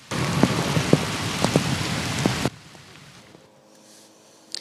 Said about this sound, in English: As more rain picked back up.